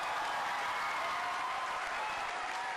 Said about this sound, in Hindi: जोरदार तालियां सोनाक्षी के लिए